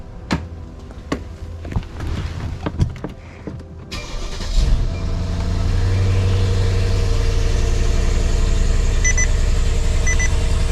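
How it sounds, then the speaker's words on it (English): A Mercedes S-Class makes a cold start: a few sharp clicks and door or latch knocks, then the engine cranks and catches around four seconds in, settling into a loud, steady fast idle close by with no talking. "Another little cold start."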